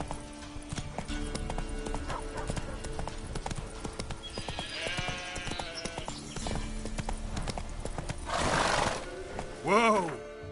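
Roach the horse runs in The Witcher 3, hooves clip-clopping steadily up close, followed by a loud whoosh and a whinnying neigh near the end over game sounds.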